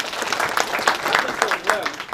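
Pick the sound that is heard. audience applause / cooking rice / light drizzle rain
audience applause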